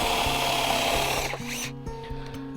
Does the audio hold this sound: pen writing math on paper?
no